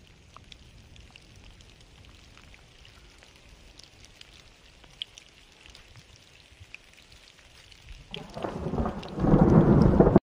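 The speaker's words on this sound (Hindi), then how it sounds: "ओले पड़ रहे हैं हमारे ऊपर" Hail and rain on a high mountain trek begin quietly, with scattered drops and light patter for several seconds, then swell sharply into a loud, dense roar of pelting hailstones and rain near the end.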